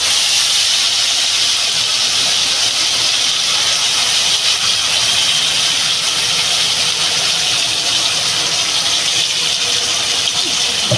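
Spice paste for goshti aloo hits a hot pan and sets off a loud, steady sizzling hiss that fills the whole stretch without a break.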